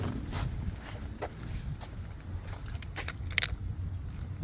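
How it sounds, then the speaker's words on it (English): Chevy Volt key fobs being set down, with a few faint metallic key jangles and clinks over a low steady background hum, quiet and close. "So we're going to take each of these keys out of the car,"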